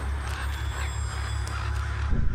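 A bird caws in the video game Before the Storm: a few harsh calls over a steady ambient game background, moderately loud, with no speech.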